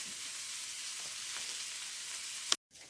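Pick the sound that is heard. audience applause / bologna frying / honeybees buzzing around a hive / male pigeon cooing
bologna frying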